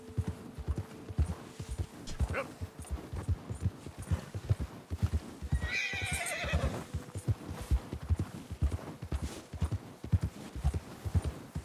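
Horse hooves and a whinny in the video game Red Dead Redemption 2, a horse ridden through the cold with steady rhythmic clip-clop throughout and a loud neigh midway.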